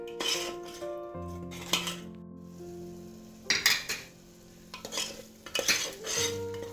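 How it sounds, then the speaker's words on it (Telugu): Masala with salt and turmeric fried in a pan and stirred, scraping and clinking strokes of a metal spoon against the pan in irregular bursts over a soft sizzle. "ఈ మసాలా కొంచెం పచ్చివాసన పోయేంత వరకు మనం వేయించుకోవాలి."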